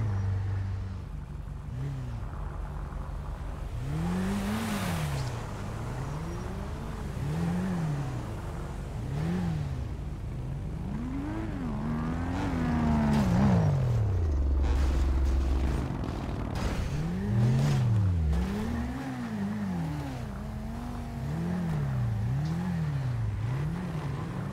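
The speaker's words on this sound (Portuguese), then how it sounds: "olha o barulho do carro" A car engine in a video game revs up and down in repeated rising and falling sweeps, steady and fairly close, with a low rumble beneath and no talking.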